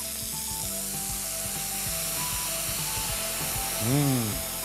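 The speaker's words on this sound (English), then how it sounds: "Now, white wine." White wine poured into a hot frying pan of crisped ingredients and black olives to deglaze it, producing a continuous loud sizzle and hiss with a whining tonal hum running underneath.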